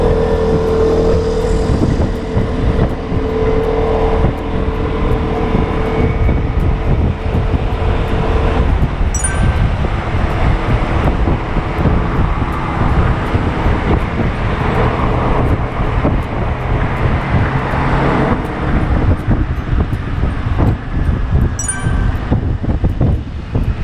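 A Vespa scooter rides along the road, with steady loud engine and wind rumble throughout, continuous traffic-like roar with little variation and occasional faint high chirps.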